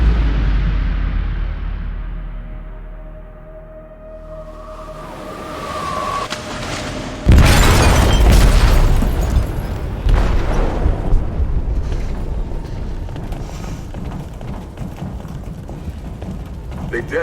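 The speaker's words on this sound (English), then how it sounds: "They detonated an explosive in the hold." A loud explosion goes off inside a ship's hold in Detroit: Become Human, a sudden heavy blast that gives way to rumbling, roaring debris and churning water.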